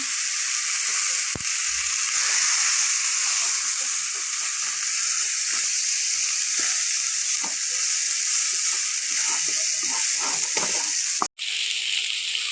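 Loud, continuous sizzling of boiled chicken frying in oil, with occasional stirring scrapes and a brief sudden drop near the end.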